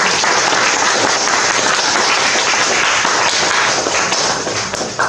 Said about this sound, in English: it's a round of applause anyway